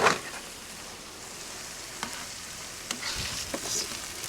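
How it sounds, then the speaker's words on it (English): Onions sauté on a Blackstone indoor griddle with a steady, moderate sizzle and crackle, broken by a few soft scraping and tapping clicks from a utensil, and no voices. "Just gonna get these going, spread out, sauteed up, however you wanna call it."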